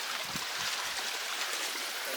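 A small stream in the Kodaikanal forest trickles and burbles softly, with faint low gurgles at first over a quiet, even rush of water.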